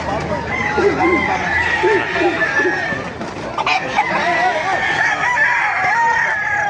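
Roosters crow repeatedly at a busy chicken market in Baliuag, Bulacan, several calls overlapping near and far, with clucking hens and people talking throughout.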